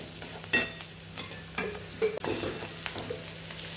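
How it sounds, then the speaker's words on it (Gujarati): Chopped onion khariya stirred and sautéed in a pan, with a steady sizzle of frying beneath a few scraping strokes of the spoon against the pan, close and moderately loud, no talking. "બધું સરસ આપણે મિક્સ કરી અને સાતળી લેવાનું છે પાછું।"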